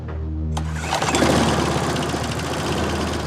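A lawn mower engine cranks and catches with a sharp start, then runs loud and close with a steady, rough mechanical drone.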